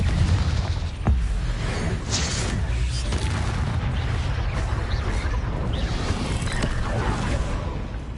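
Confringo blasts in Hogwarts Legacy land as dense, continuous booming explosions and rumbling bursts, loud and close, with a sharp crack near one second and layered whooshes throughout.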